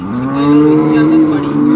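A dairy cow lows steadily at a busy cattle market in Baramati, giving one long, loud, close moo over the crowd noise.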